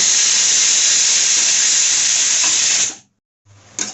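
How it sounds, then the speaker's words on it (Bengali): Pumpkin greens sautéing in a hot pan, with a loud, steady sizzling hiss that cuts out briefly and then resumes. "ধুয়ে রাখা কুমড়ো শাক দিয়ে দেবো। শাকটা ভালো করে কষে নেব।"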